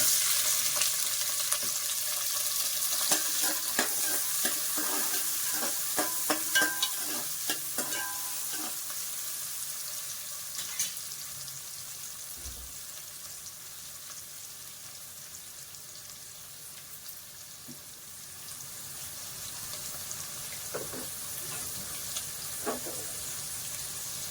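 Two medium-sized onions fry in a pan as a utensil stirs them. A steady sizzle runs throughout, with a burst of scraping and clinking strokes early on and a few more near the end, and no one speaks.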